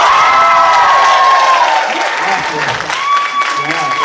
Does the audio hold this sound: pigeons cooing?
no